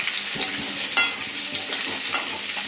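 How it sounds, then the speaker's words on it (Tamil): Cut raw mango sautés in hot oil with green chilli and curry leaves, giving a close, continuous sizzle with light stirring scrapes throughout; no voices. "இது நல்லா எண்ணெயிலே கொஞ்சம் நல்லா வதக்கி விட்டுட்டு"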